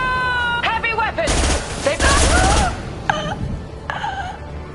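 Heavy weapon firing in the sci-fi shooter Mass Effect 2, loud broadband blasts in two long bursts amid whining tonal effects and a shouted voice, with more effect sweeps afterward.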